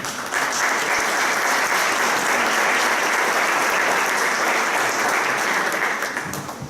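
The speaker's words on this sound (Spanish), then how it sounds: "Un aplauso, por favor" A conference audience at an archives-law event applauds a welcomed speaker, a dense, steady wash of clapping that holds loud and even for the whole stretch before easing slightly at the end.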